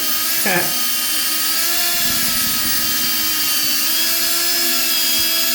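A drill-mounted paddle mixer whirs steadily as it stirs an epoxy skim coat slurry for a bathroom remodel, a constant close mechanical whine with a brief rise in pitch near the start.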